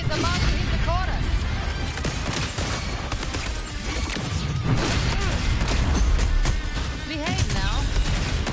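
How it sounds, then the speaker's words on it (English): Mortar shell explosions crash and boom in the video game Wuthering Waves, several heavy blasts over dense battle noise and music, with voices speaking over the action throughout. "Another mortar thrown at us"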